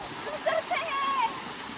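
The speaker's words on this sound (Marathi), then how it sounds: "खूप सुंदर असा धबधबा या ठिकाणी आपल्याला बघायला मिळतोय" A waterfall at Darya Ghat near Junnar gives a steady, even rush of falling water. A person speaks over it throughout.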